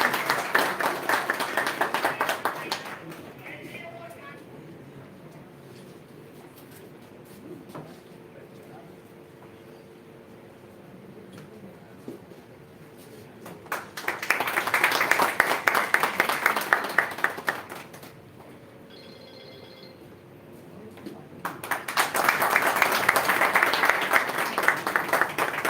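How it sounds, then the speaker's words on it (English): Audience applause at a one-day seminar honouring a South African High Commission guest, three waves of hall clapping with quieter stretches and a voice between them. "Please give big round of applause."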